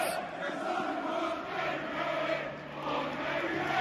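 Millwall football fans chant a player's name at an away match against Reading, a sustained crowd song from the stands that rises and falls in waves across the terrace.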